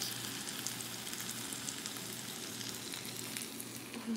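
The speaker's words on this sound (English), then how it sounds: "Take the steak and put it in the pan." A steak sizzles steadily in a frying pan with a dense, even hiss and occasional small pops, close but fairly quiet, with no talk.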